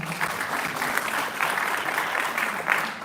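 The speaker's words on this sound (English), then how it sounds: "Round of applause for Mr. Zay." Audience applauds a student being introduced at a Cobb County Sheriff's Office event, a brief, even burst of many hands clapping with no speech over it.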